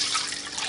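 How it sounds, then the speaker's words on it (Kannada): Water is poured slowly into oil in a heated pan, giving a brief, close burst of hissing, splashing liquid with no voices. "ನಿಧಾನವಾಗಿ ನೀರು ಹಾಕಿ ಹಾರುತ್ತೆ"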